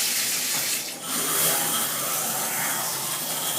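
Water sprays from a shower head fed by low water pressure through an on/off valve that cannot be adjusted, giving a steady, close, full hiss with a brief dip partway through and no talking.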